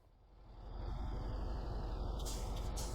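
A truck engine in the game MudRunner rumbles up and pulls away, its low drone swelling and holding steady, with a brief air hiss near the end.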